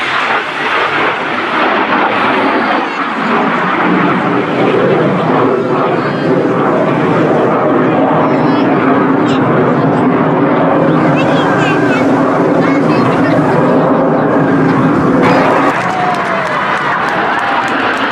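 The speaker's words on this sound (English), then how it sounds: "At the front of the formation is Red 1, squadron leader David Montenegro." An aircraft formation passes overhead at the Torbay Airshow in June 2017, a loud sustained engine roar rising and falling over many seconds while a commentator talks over the top.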